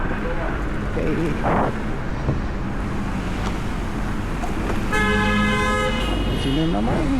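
A car horn honks in jammed traffic, a sustained toot blaring for about a second amid engine and road noise, with people talking and shouting around it.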